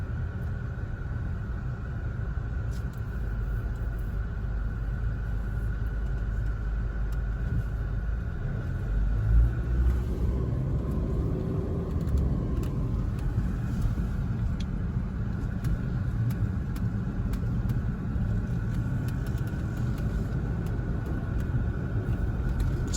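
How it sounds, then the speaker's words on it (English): Steady in-cabin drone of a car driving on a freeway near roundabouts with the air conditioning running, a continuous low rumble with a constant fan hiss and no talk. "Got the air conditioning on, so you're just gonna have to deal with it."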